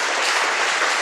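Church congregation at an ordination service breaking into dense, loud, continuous applause, many hands clapping at once in an even wash of sound with no gaps, heard without speech.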